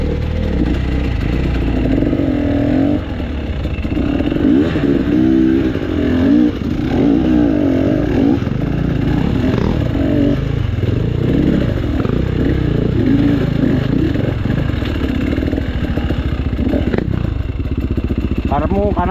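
Two motorcycles ride together with a loud, continuous engine drone that rises and falls through revs. Voices talk over the steady road noise and clatter throughout.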